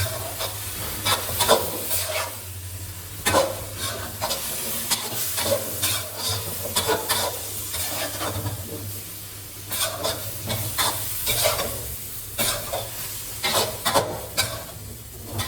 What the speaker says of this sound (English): add in the eggplant and basil leaves and toss everything together well